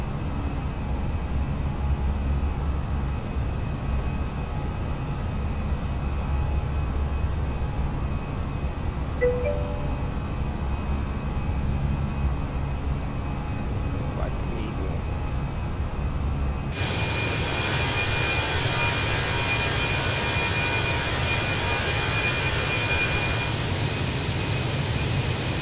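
Airbus A320 engines at climb thrust in a flight simulator, a steady broadband roar with low rumble that brightens abruptly into a louder hiss partway through, continuous with no talk.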